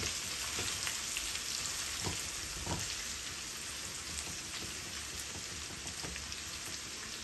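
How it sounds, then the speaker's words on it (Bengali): Ginger frying in oil for a pumpkin-leaf and black-bean dish, giving a steady dense sizzle with soft crackles throughout, fairly even in level with no voices. "আদাটারে একটু ভাজা ভাজা করবো"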